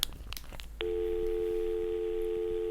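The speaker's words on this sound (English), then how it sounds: "Yeah, I've got a dial tone." A telephone dial tone on a line run through a DSL router comes on abruptly after a few soft clicks and handling noises, then holds as a steady, continuous hum, clear and close.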